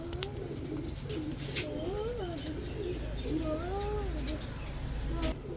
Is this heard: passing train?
no